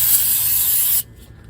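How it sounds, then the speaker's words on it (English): Brake cleaner from an aerosol can is sprayed into the engine of a 2008 Toyota Tacoma during an intake manifold gasket job. One loud, close hiss lasts about a second and then cuts off sharply. "Use plenty of this brake cleaner to get down in there."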